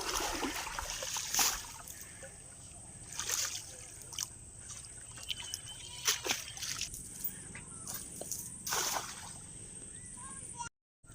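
A fishing net is washed in Sundarbans river water, producing intermittent sloshes and splashes over a quiet riverside background, with several louder bursts spaced a few seconds apart.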